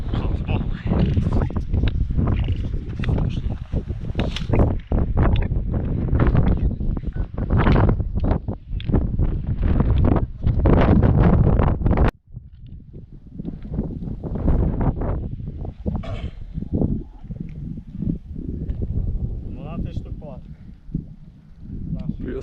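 Strong mountain wind buffets the microphone in loud, roaring gusts in the Carpathians, with voices talking intermittently underneath.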